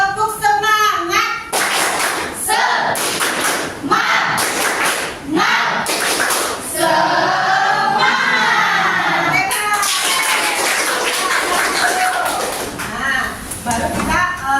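A school class in a biology lesson performs a rhythmic clapping chant, children's voices shouting in unison between bursts of claps that come in regular patterned groups, loud and close.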